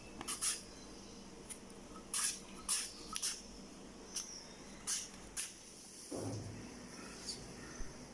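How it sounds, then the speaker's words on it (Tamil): A raw potato is drawn over a slicer straight into a bowl of water, giving about a dozen faint, crisp slicing strokes at an irregular pace with soft wet splashes and one duller thud. "இந்த மாதிரி ஒரு சீவரக்கட்டை எடுத்துகிட்டு அதில் பொட்டேட்டோவை டேரெக்டாக இந்த மாதிரி தண்ணியில் சீவிக்கோங்க"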